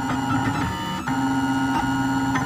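A 3D printer lays down the first layer of support material, giving a steady motor whine with stepped pitch changes and brief pauses as the print head moves, close and fairly loud.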